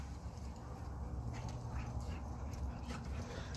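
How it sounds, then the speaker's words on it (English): Several dogs fighting in a home, with faint yips and whimpers under steady background noise, heard close but fairly quiet. "Sorry, my dogs are fighting."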